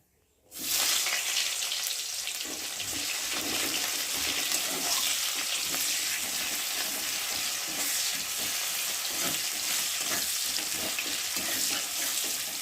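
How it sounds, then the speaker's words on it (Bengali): Chopped onion hits a hot pan with cumin and taro and bursts into a loud, continuous sizzle and crackle that holds steady after a brief quiet start, with no talking. "তারপরে দেব একটা পেঁয়াজ কুচি"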